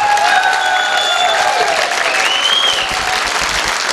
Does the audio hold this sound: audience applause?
yes